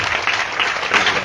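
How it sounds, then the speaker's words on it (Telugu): A congregation at a prayer meeting in Chittela claps loudly in worship, a short, close burst of vigorous, continuous hand clapping. "గట్టిగా చప్పట్లు కొడుతూ ప్రభువును ఆరాధించుదాం."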